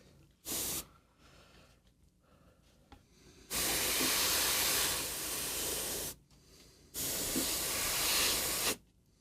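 Short and long bursts of air from an airbrush working over contrast paint on a miniature: a brief puff, then two sustained loud hisses of a few seconds each, separated by quiet gaps.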